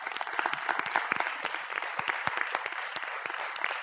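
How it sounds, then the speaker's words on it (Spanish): An audience applauds, a steady dense patter of many hands clapping, moderately distant and continuous with no talking over it. "pues vente, le aplaudimos también, le aplaudimos también"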